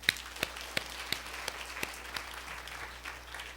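A church congregation claps during a sermon, a few sharp distinct claps standing out at first over a faint scattering of applause that stays fairly quiet and settles into lighter clapping.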